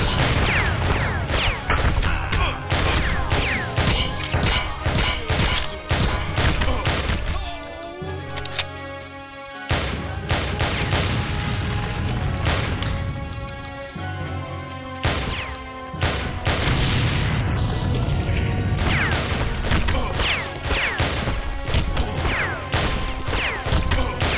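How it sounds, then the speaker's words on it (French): A shooting video game throws off a dense run of explosions and crates smashing apart, with sharp repeated cracks and booms that break off briefly twice before the noisy clatter returns. "c'est quoi ces explosions à 2 balles avec les morceaux de caisse bizarres?"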